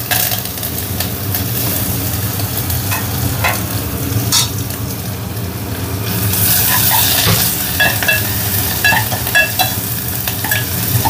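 Hing, ginger, garlic and curry leaves frying in hot oil in a cooking pot for chinchkadhi, a loud steady sizzle with occasional spoon knocks that swells halfway through into sharper crackling pops.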